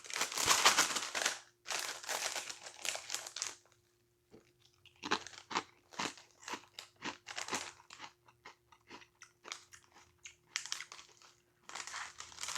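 Close, loud crunching and chewing of Ruffles vinegar and pepper potato chips, with bursts of crisp bites followed by a steady run of short munching crunches and brief pauses between them.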